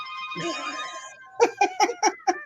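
A phone ringtone plays loud and close, opening with a sustained melodic tone and then breaking into five sharp, evenly spaced electronic rings.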